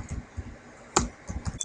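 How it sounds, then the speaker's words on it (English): Fingers tap a computer keyboard while configuring a network interface in Packet Tracer, with a handful of soft, close keystrokes and one sharper key press amid quiet pauses. "on the interface configuration I have to type IP address of"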